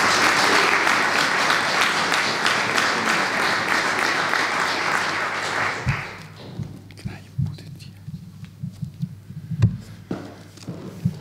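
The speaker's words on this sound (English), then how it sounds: "Please give a round of applause for Roberto." Audience applause for Roberto Viola at a keynote marking ICHEC's 10th anniversary, a dense, steady clapping that fills the room for about six seconds before dying away into scattered low thumps and quiet room noise.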